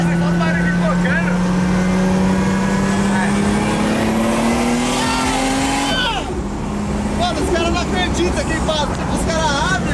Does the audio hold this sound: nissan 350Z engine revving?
yes